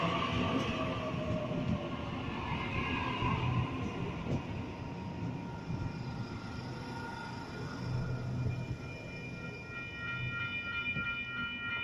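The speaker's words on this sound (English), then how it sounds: "Waratah set A18, now departing from platform number 1, North Sydney service." A Sydney Waratah train, set A18, departing a station platform, a steady rumbling roll with faint high wheel squeals, heard from close by and continuous throughout without talk.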